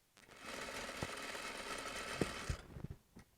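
A sewing machine runs a steady, close whirring stitch along a sleeve shoulder seam for about two seconds, then slows and stops with a few soft mechanical clicks.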